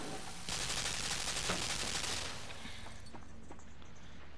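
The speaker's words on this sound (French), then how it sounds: "Oh, il y a une mitraillette." Machine gun in the game Limbo firing a rapid burst of shots for about two seconds, fairly loud, then fading into quieter ambience with a few faint clicks.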